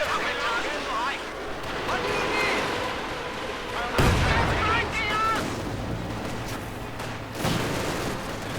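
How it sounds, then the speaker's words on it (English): Panzerwerfer rocket artillery firing in a video game battle, heavy booming launches and blasts mixed with ongoing combat noise while a commentator talks over it. "Panzerwerfer moving up, firing away."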